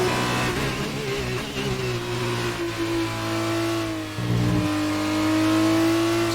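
A Formula 1 car lapping in the video game F1 2019 screams past at high revs, its engine pitch climbing through gears with a brief downshift dip, steady and loud without voices.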